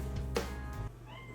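A cat gives a single short meow close by, over a low steady hum.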